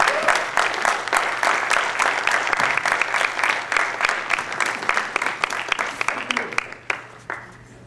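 A theater audience at a poetry and political event claps in rhythmic unison, sharp distinct beats that gradually thin out and fade toward the end.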